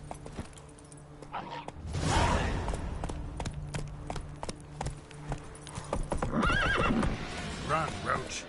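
Horse in The Witcher 3 neighs and whinnies loudly, with clip-clop hooves running beneath, a second whinny near the end over steady game ambience; someone speaks briefly.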